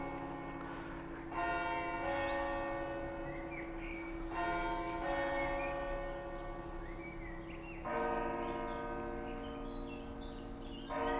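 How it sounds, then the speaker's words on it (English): Church bells ring in a medieval town, long sustained tolls swelling in several waves over a constant background drone, heard from some distance with no talking. "Church bells going on again."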